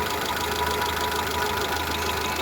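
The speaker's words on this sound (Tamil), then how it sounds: "இன்ஜின் பார்த்திங்கன்னா அப்படி ஒரு ஸ்மூத்துங்க" Engine of a 2008 Hyundai i10 Magna used car idling steadily, a smooth, even mid-pitched hum with a faint rhythmic knock, loud and close with no voices.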